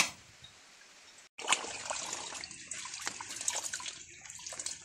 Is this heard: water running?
yes